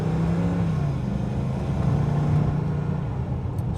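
A 1960 Jaguar Mk2 sedan cruising through a suburban street, its engine a steady low rumble with a faint hum, heard from inside the car with no voices.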